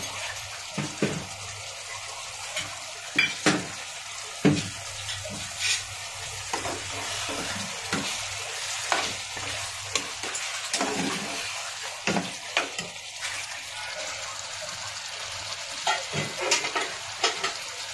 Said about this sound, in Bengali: তো মাটনটা ভালো করে কষিয়ে নিচ্ছি।